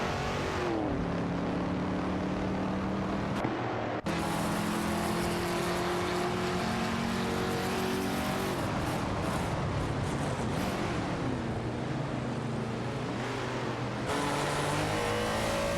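A 1971 Plymouth Roadrunner and an Aston Martin Vantage race in a video game, their engines roaring loud and continuous with rising and falling pitch through gear shifts and close passes.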